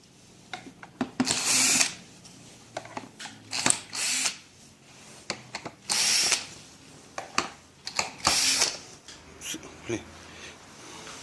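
A power drill backs out screws from the door of a two-seat Clever children's electric ride-on car, in several short whirring bursts close by, with a voice talking between them.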